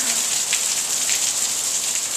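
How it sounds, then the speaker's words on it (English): Heavy rainstorm in Pasadena, a steady dense hiss of rain pouring onto surfaces, close and continuous throughout with no pauses or voices. "rainstorm here."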